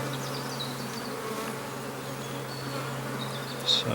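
Honey bees hum in a hive while frames are inspected, a continuous low drone with individual bees whining close by now and then, moderately quiet and without speech.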